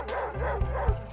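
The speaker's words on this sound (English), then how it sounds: "This dog's all over the window, man." A dog barks and yips in quick repeated bursts close by, excited and loud, with no talk over it.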